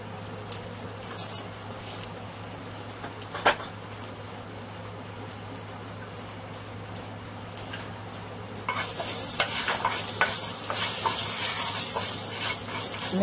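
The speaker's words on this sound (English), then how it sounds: "Let it roast till it gives you a nice aroma." Cumin seed and asafoetida roasting in a pan before beets and onion go in: a quiet simmering crackle with scattered clicks at first, then a louder, denser sizzle swells up for the last few seconds, no voice.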